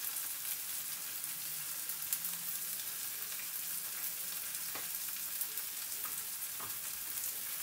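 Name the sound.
potato peas masala cooking in a pan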